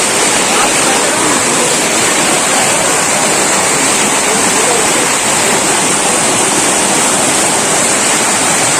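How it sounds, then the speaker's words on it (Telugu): Strong water pours at Bhairavakona waterfall, a loud, dense and unbroken roar close by that fills the whole stretch. "ఇక్కడ వస్తున్న వాటర్ చూసారా, చాలా ఫోర్స్ ఉంది."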